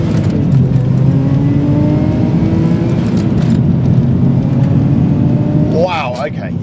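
A turbocharged Subaru Legacy 3.0R with a flat-six engine accelerates hard, its engine note droning and climbing steadily close up, then shifting near the end with a whooshing, fluttering tone as revs change.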